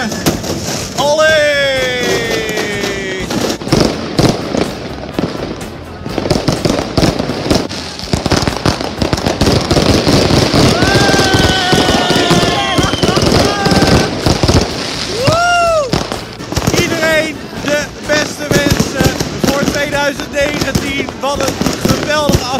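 New Year's Eve fireworks and firecrackers bang and crackle almost continuously, with whistling rockets rising, while people cheer and talk nearby throughout.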